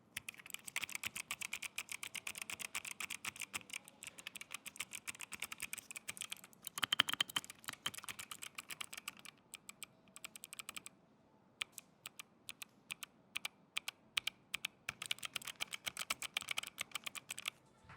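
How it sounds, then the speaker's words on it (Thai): Clicky keystrokes on an ASUS ROG mechanical keyboard, steady fast typing with a brief pause midway, close and crisp, no voices. "ลองฟังดูชอบกันไหมเสียงประมาณนี้ในส่วนของคีย์บอร์ดนะคะ"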